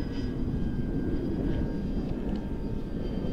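A Dynam P-61 Black Widow 1500mm 4S electric RC warbird flying overhead gives a faint, steady motor whine with a soft airy rush, distant and continuous, with no talking.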